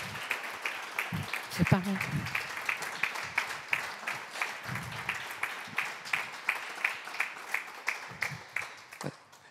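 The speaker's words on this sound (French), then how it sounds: "au vu de l'applaudissement que vous avez reçu" An audience applauds after a conference talk with sustained, rhythmic clapping in steady pulses as a voice speaks over it.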